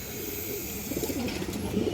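Pigeons, including large Army-type birds, give low soft coos against a steady background hiss, a faint rolling murmur that grows a little stronger toward the end.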